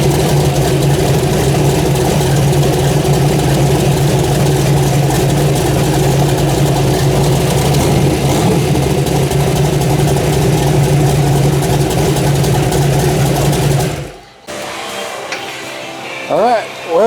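An S10 drag car engine runs at a loud, rough, steady idle close by for most of the span, then cuts off abruptly, leaving quieter background noise and a brief voice.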